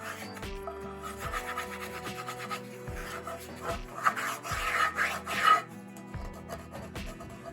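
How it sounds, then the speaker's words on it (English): Stuck scrambled-egg bits scraped off a cast iron skillet, a series of close, dry rasping strokes around the edge and across the bottom of the pan, quiet and irregular with no talking. "I'm just going to go around the edge of the pan and just kind of scrape all these little bits off"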